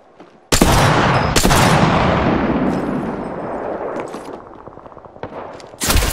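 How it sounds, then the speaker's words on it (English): Sustained automatic gunfire in Apex Legends erupts loud and close after a brief quiet, with sharp bursts standing out and the firing trailing off, then a fresh burst at the end. "I'm taking shots."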